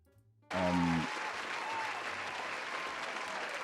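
Applause played as a sound effect bursts in suddenly after a short quiet moment and then holds as a steady, dense wash of clapping from a crowd until the end.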